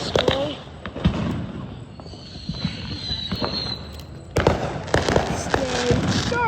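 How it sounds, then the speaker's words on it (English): Fourth of July fireworks burst in a series of sharp bangs and crackles, some close and loud, with people talking and exclaiming in between. "The firework display."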